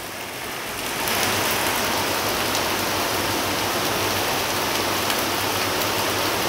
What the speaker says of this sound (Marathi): जालन्यातील जोरदार मुसळधार पाऊस सुरू आहे